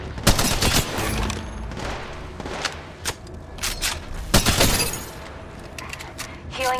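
Gunfire in a video game arrives as irregular bursts of rapid shots, loud and close, with a voice talking between volleys.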